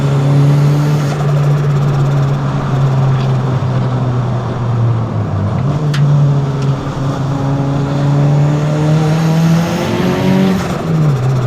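Mitsubishi Lancer with a 4G93 engine driven hard on snow tyres, with worn shocks and lowered springs: a loud, sustained engine drone that rises and falls through the revs, with some tyre noise, continuous and close.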